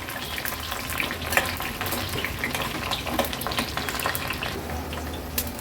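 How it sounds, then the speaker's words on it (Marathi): Jackfruit pieces fry in hot oil over a medium-high gas flame, giving a steady, dense sizzle and crackle that runs unbroken throughout, with small pops and stir clicks scattered across it. "उलट पालट करून आपण व्यवस्थित ह्याचा रंग चेंज होईपर्यंत आपण ह्या फणसाच्या फोडी तळून घेणार आहोत।"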